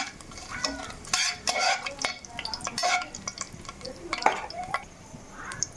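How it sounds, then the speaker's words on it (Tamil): Spices, including cardamom and fennel seeds, sizzle in hot oil for biryani while a utensil stirs and scrapes against the pan, with occasional metallic clinks, close and moderately quiet. "இதெல்லாம் நல்லா பொரியட்டும்"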